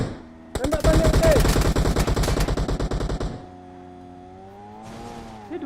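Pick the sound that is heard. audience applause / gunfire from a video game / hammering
gunfire from a video game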